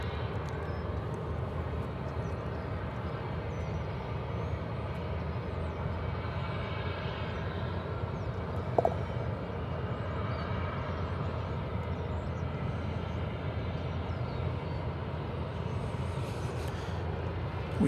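An MD-11 jet at DFW Airport, its engine roar a steady, moderately distant broadband rush that holds throughout, with a brief sharp click partway through and no talking.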